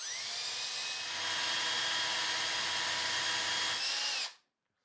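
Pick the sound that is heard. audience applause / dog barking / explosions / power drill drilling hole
power drill drilling hole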